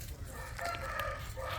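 A purebred Korean fighting rooster of about 4.9 kilograms crowing faintly in a short burst over low background noise, with no one speaking.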